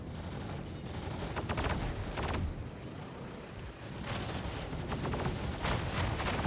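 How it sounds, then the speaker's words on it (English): Heavy sustained gunfire in Star Citizen space combat, a Hornet F7C fighter under attack from a pirate swarm: dense overlapping rapid-fire bursts and explosive thuds, loud and continuous for several seconds with no voice. "we are starting to take some heavy fire from the ships around here"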